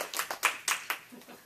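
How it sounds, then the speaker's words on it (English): A handful of separate, sharp claps from a small meeting audience, loosely spaced and quickly tapering off into quieter patter. "Let's give them a round of applause."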